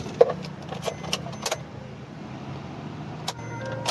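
Keys to a 2019 Maruti Baleno jangle and click up close inside the car, several light metallic taps and rattles over a quiet cabin hum.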